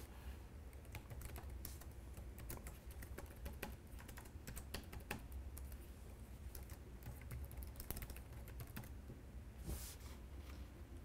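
Computer keyboard typing a rule description in desktop workflow software, a steady patter of close, faint key clicks continuing throughout, no talk.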